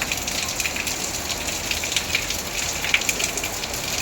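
Heavy rain with a storm pours steadily in Surat, a dense hiss of drops drumming on surfaces with no break throughout.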